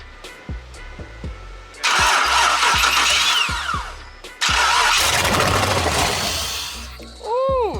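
LS V8 engine cranking with a rhythmic starter whir, then catching and firing up into a loud rough run, revving in bursts, close up and with no one talking over it.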